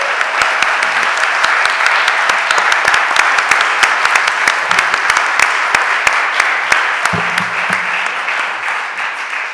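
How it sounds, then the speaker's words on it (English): Steady, sustained round of applause from a crowd in a city council chamber honoring Mayfair students, dense clapping running evenly throughout with no talking. "give you a round of applause"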